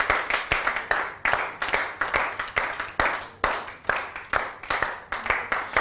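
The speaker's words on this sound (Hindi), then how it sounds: "तीनों को क्लैपिंग होनी चाहिए इनके लिए" An audience claps for three girls who have just won a game on a weekend TV show, a dense burst of many hands with pulsing waves of applause that carries on throughout, near and fairly loud, no speech.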